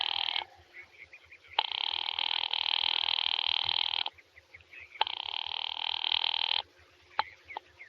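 A telephone on the line rings in a 1940s radio drama, two long, steady, buzzing rings separated by a pause, heard over faint low hum and line noise.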